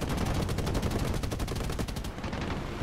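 Aircraft guns firing in War Thunder, a loud, continuous burst of rapid rhythmic shots that runs nearly the whole time before trailing off at the end, with no talking.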